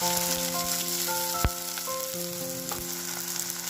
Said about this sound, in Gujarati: તેલ ગરમ થઈ ગયું છે એની અંદર આપણે લસણ જે કાપી કાઢ્યું છે તે આપણે અંદર એડ કરી દેવાનું છે